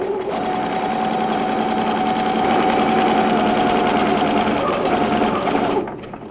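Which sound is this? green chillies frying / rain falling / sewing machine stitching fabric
sewing machine stitching fabric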